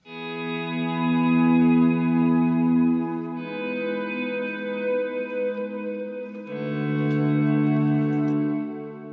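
An electric guitar swells through Guitar Rig 6 plugin effects with a pitch shifter, producing thick, sustained ambient chords with layered harmonics and reverb, fading in smoothly and shifting through three held chords with no talk.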